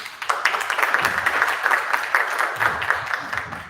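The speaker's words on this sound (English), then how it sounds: "let's give a round of applause for Sinjin" Steady applause from a crowd at a tech meetup, close and moderately loud, continuing without a break for about four seconds.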